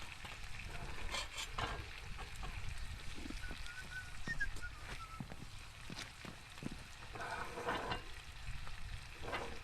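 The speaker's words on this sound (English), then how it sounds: "That'll continue to simmer up nicely." Pancake batter sizzles on a griddle over an outdoor campfire, a steady crackling hiss that runs throughout at moderate level, with faint clinks and a few short high chirps in the background and no talking.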